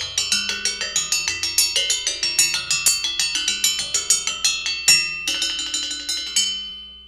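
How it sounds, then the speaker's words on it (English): A found piece of metal with slices cut into it is struck as a percussion instrument, producing a quick rhythmic run of bright, ringing metallic hits with sustained overtones, close and clear, with no talking. "He found this piece of metal and he cut these slices into it"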